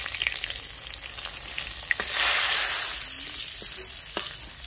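Bay leaves, garlic and chilli sizzle in hot oil in a pan, the base for a Bengali katla fish kalia. The frying hiss is close and steady, swells briefly, and has a few sharp pops and crackles.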